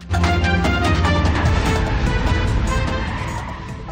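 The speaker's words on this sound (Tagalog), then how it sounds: "nang biglang umatras ang SUV at nagpaikot-ikot pa sa isang gasolinahan" An SUV abruptly reversing and spinning around at a gas station in Quezon City, with a loud, continuous engine roar and rumbling tire noise, busy and dense throughout and easing slightly toward the end.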